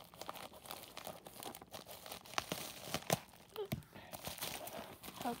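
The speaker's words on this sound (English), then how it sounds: "let me go ahead and cut it open" A mail package is cut open, giving irregular crinkling and tearing of packing material with a few sharp rips, close and moderately loud.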